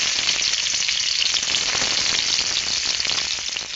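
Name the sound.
onion frying in oil for fish curry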